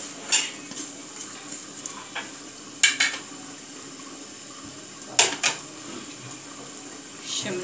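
Shredded cabbage, carrot and capsicum tossed in a pan with a metal utensil give a few sharp clinks and scrapes, spaced apart over a quiet background with faint talk.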